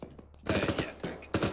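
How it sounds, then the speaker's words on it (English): Machine gun fire in a war game crackles in rapid bursts of close, loud shots, a short stuttering volley followed by another after a brief pause. "I can barely hear over the gunfire now, man."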